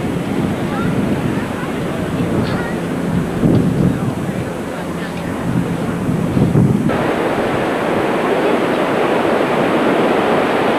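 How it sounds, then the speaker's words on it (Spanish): Strong wind roars into the microphone at a Pacific beach in Venice, a loud continuous rumble and buffeting blended with crashing surf, with voices briefly heard beneath it. "Un viento total."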